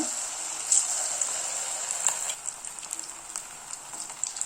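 Marinated cauliflower pieces frying in hot oil give a continuous close bubbling sizzle with scattered small pops and crackles throughout, steady in level and heard alone without talk.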